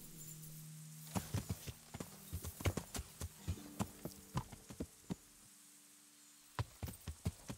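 A horse's hooves clop in an uneven run of close, distinct beats during a ride in Kingdom Come: Deliverance, with short pauses, over a low, steady hum and no talking.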